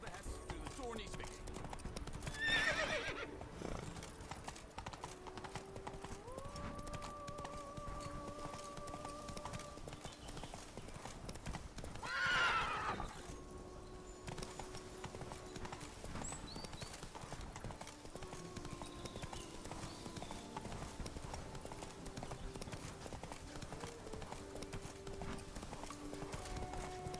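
Horse Roach in a video game, hooves clip-clopping steadily at a run beneath a continuous musical score, with a couple of brief louder rustling bursts and someone speaking.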